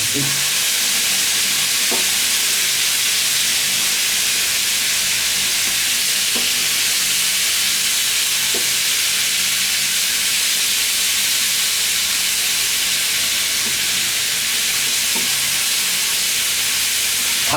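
Chili pieces frying in a pan for peri peri chicken, a loud, constant close-up sizzle with occasional faint clinks of stirring.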